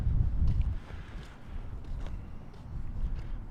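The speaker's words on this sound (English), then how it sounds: "20 to 25 mile per hour wind gusts right now" Strong winter wind gusts of 20 to 25 mph buffet a microphone on a Duluth, Minnesota pier at dawn, a low rumbling roar loudest at the start, then easing and swelling again.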